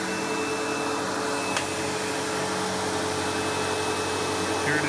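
A Windsor Sensor XP12 upright vacuum, sold also as the Sebo Automatic X4, runs indoors on carpet with a steady, loud motor whine and airflow hiss that holds unbroken throughout.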